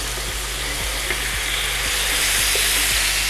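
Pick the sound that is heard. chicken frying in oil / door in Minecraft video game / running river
chicken frying in oil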